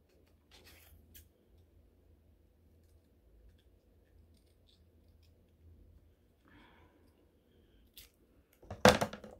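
A single sharp scissor snip trims a paper roll fox craft near the end, following several seconds of quiet paper handling and faint rustling close by.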